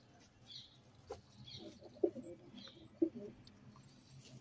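Pigeons coo softly at a moderate distance, a few low rounded calls standing out among faint chirps and a steady background murmur.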